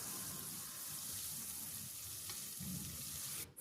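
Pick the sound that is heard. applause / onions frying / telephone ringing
onions frying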